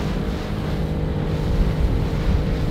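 A Zodiac inflatable boat's outboard motor running on water, a steady low engine drone mixed with wind rush against the microphone, continuous and close for nearly three seconds with no talk.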